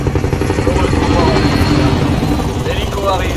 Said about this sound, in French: L'hélico arrive. Patientez.